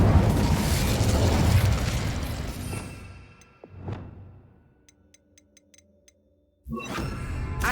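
A fiery Incendio spell blast in Hogwarts Legacy, a loud roaring burst that fades with a whoosh into near silence broken by small ticks, then another loud burst at the end.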